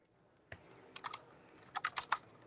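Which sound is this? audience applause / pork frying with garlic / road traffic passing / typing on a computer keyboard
typing on a computer keyboard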